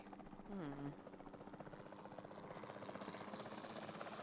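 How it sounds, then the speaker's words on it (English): In a dinosaur video game, a capture team helicopter drones with a steady, pulsing rotor hum that runs throughout, near and moderately loud, with a brief tonal blip near the start. "Then the sensible thing is to take a capture team helicopter."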